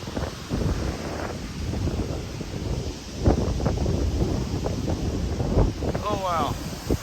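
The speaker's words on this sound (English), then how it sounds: "that must have been a strong wind gust right there" Gusty 20 to 40 mph storm wind buffeting the microphone in continuous low rumbling bursts, with a sharper gust near the middle and a brief whistling squeal near the end.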